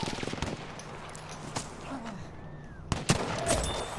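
Gunfire in Battlefield V Firestorm: a few sharp shots crack through low game ambience, ending with a louder, closer pair of reports.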